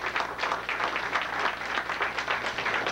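A lecture audience gives a steady, dense round of applause, many hands clapping together at an even level for a few seconds with no voices.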